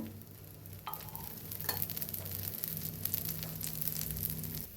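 Potato dosa cooks in oil on a pan, a soft steady sizzle with light crackle and occasional scraping touches, no voices.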